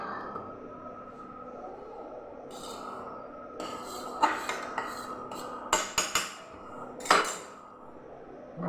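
Metal pot on an induction cooker with tea leaves added for strong morning tea, giving a steady low cooktop hum and a few sharp clinks and clatters of utensils against the pot.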